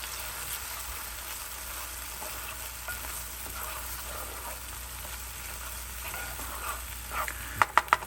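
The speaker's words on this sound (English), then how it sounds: "let's add the garlic right now" Garlic sizzles and fries steadily in a hot pan for Three Sisters soup, a continuous crackling hiss that runs throughout, with a few sharper clinks and scrapes near the end.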